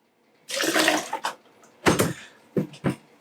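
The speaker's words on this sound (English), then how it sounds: "I'm going to put a little bit more water through that." Water is flushed through a Graco Ultra QuickShot airless sprayer during cleaning, making a close gushing rush followed by several shorter splashing bursts.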